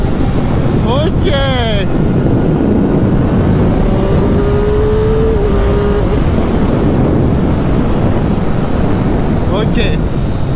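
A Triumph Street Triple 765 RS motorcycle engine revs up in third gear in sweeping rising pitches, with heavy wind buffeting the microphone throughout; a voice briefly talks under the noise.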